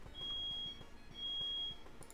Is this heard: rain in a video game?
no